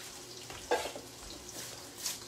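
Trumpet mushrooms cook in a pan, giving a soft, steady sizzle with faint scraping as they are stirred.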